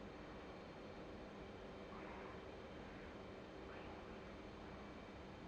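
An F/A-18 Hornet jet in the DCS flight simulator game, afterburner lit during a hard pull in airshow practice, gives a steady, broad engine roar that stays constant and fairly distant, with no voices.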